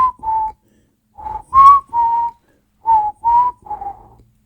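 Someone whistles a short tune nearby, a series of clear, separate notes with brief pauses between phrases, no other sounds around.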